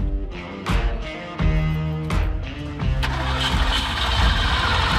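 A Ferrari 308 GTB at a rally cranks in several attempts, then its engine catches and settles into a loud, steady idle nearby.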